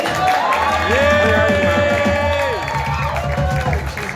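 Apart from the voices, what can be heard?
audience applause and cheering for the comedian's mom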